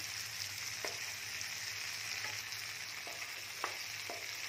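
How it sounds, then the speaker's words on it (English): Paneer masala shallow frying in butter, a steady close hiss of sizzling with a few light stirring knocks, no talk. "don't make it deep fry, only little bit shallow fry only"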